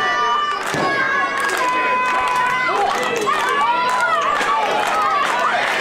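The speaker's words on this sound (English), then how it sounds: "And the crowd is loving it." A packed wrestling-match crowd cheers and roars continuously, with shrill shouts and whistles rising through the loud, sustained din while commentary voices talk over it.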